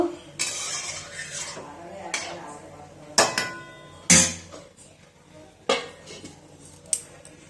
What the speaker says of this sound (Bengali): এবার জল দিয়ে দেবো এবার এটাকে ঢেকে দেবো